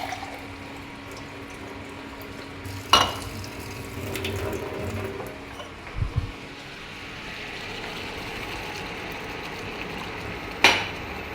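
Water runs from a tap in a kitchen while methi matar cooks, a steady low stream with a few sharp clinks of utensils against a pot.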